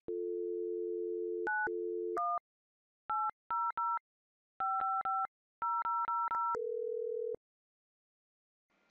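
Telephone keypad dialing tones on a business phone system: a steady dial tone, then a quick run of separate beeping dual-tone digit presses in irregular groups, a final lower tone, and silence, all clean and close with no talking.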